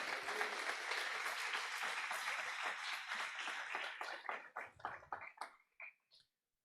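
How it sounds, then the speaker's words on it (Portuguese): Church congregation bursting into loud, dense applause that holds steady for several seconds, then thins into scattered individual claps and fades out, with no talking over it. "Você pode aplaudir a Jesus?"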